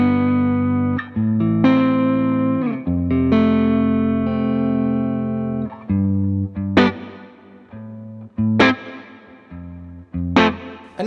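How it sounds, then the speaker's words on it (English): Electric guitar played through a CKK Electronics Infinite reverb pedal set for a straight guitar reverb with knobs near noon, with sustained chords and single notes ringing out into a smooth tail, loud and close, no talking. "If you want kind of just a straight up guitar reverb sound, it'll totally do that and it'll be really convincing doing it"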